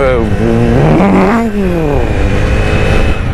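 A man imitates a motorbike engine with his voice, a loud buzzing drone that rises and falls like revving, held close to the microphone and sustained for several seconds.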